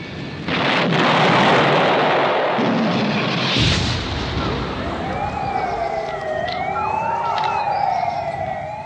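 Airstrikes hitting an RAF airfield in a British Army wartime scene: a loud, sustained explosive roar and rumble fades into lingering noise as a wailing siren rises and falls in the distance.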